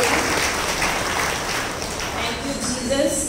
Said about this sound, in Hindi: जोरदार तालियां मारेंगे खुदा बाप के